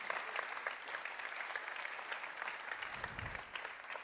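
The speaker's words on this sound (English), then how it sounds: "So a bit of a round of applause, please, for Army." Audience applause at a presentation of the new Porsche 911, a steady, even round of clapping from a crowd, moderately distant and continuous with no speech over it.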